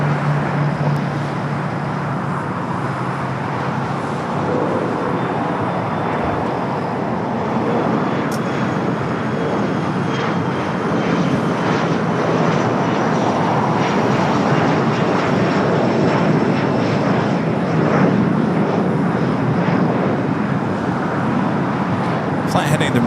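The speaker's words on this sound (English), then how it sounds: "Got that Contour Aviation next takeoff already in the sky." A Contour Aviation airliner takes off at LAX with a loud, continuous jet roar that swells slightly and holds for over twenty seconds, mixed with wind and distant traffic noise.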